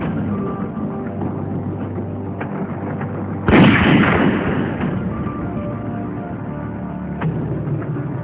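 A single loud gunshot bursts out mid-scene in an Urdu action telefilm, sharp and close, with a brief decaying tail over continuous background noise and no talk.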